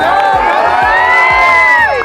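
A crowd at an outdoor promotional event in Mundra, Kutch cheers, whoops and shouts loudly for a tagline, with many overlapping voices forming a dense, steady roar throughout.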